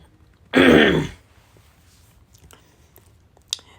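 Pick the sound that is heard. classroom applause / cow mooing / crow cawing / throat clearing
throat clearing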